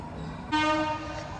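A train horn sounds a short, loud blast that cuts in abruptly and then fades, over a low rumbling background.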